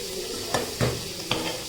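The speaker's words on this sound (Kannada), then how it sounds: "ಇಲ್ಲಿ ಒಬ್ಬಟ್ಟು ಸಾರು ಕುದೀತಾ ಇದೆ" Obbattu saaru, a lentil broth, bubbles in a pot with a soft continuous simmer, punctuated by three brief scraping stirs close by.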